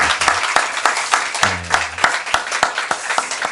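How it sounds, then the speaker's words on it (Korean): A church congregation at a New Year's Eve worship service applauds two musicians with steady, brisk clapping, close and loud, while a voice briefly rises over it midway. "우리 두 분 격려하는 박수 해주셨으면"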